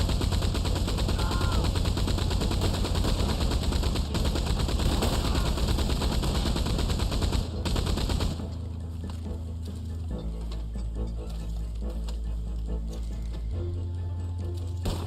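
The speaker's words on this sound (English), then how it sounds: "I'm gonna mow a lot of people down with a machine gun right now" Machine gun fire in the Red Dead Online video game: dense, rapid sustained bursts at close range, then a pause and thinner continuing gunfire with background game noise.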